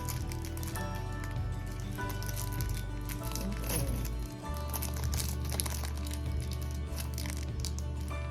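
Plastic wrapping being cut and pulled off a pink quilted puffy Versace bag, with soft crinkling and rustling close up over a steady background hum.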